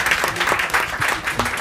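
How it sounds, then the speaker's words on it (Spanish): Audience applause greets Leobardo Benítez Carrillo at a university research seminar session, a steady wash of clapping lasting a couple of seconds at moderate level. "Un aplauso, sí."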